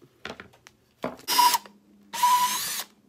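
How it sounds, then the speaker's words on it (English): Power drill fitted with a Werkzeug countersink bit boring into a workpiece, two sustained whirring bursts of about half a second each after some handling clicks and knocks, close and fairly loud. "Drill bits."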